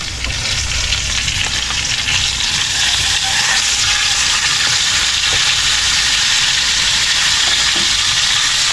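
Food fries in a pan with a loud, close, steady sizzle and crackle that runs unbroken for the whole stretch, with no talking.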